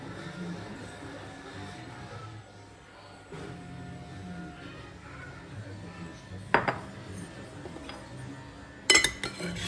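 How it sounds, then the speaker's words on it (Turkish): Quiet kitchen sounds as salad is mixed with sauce, soft scraping in a bowl, then a couple of sharper clinks of utensils against dishes near the end. "Hemen sosumu da döküyorum zaten içine."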